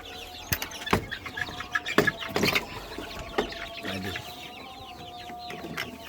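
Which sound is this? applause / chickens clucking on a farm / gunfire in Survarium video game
chickens clucking on a farm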